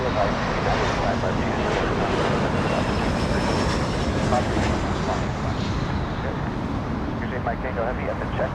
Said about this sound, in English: SkyWest, E175 touching down.